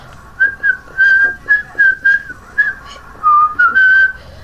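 A person whistles a lively tune alone, a run of clear melodic phrases with short gaps between them, close and fairly loud with no talking.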